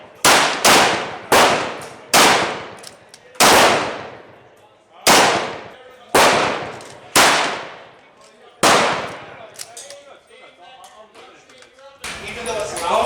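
A Mossberg MVP rifle fires 300 Blackout rounds through a suppressor, about ten loud, sharp reports with reverberant decay at irregular intervals, followed by outdoor noise and faint talking.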